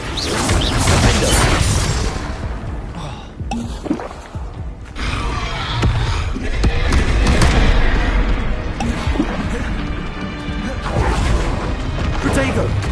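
Repeated Confringo fire-spell blasts in Hogwarts Legacy, loud crashing booms and whooshes over continuous battle noise, with a voice shouting spell names throughout.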